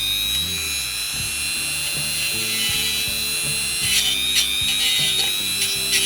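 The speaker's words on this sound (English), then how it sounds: "Dremel's warmed up. Using our wire brush," A Dremel rotary tool fitted with a wire brush whirs steadily as it scrubs a part from a Black Forest Regula 03 cuckoo clock, with a continuous high buzz and brief grinding bursts near the end.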